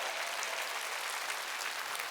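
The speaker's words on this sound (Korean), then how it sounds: "깨닫는 자가 믿는 사람만 박수" A church congregation clapping together during a Wednesday worship service, a dense, even wash of applause that holds steady for a couple of seconds, fairly distant and without talk over it.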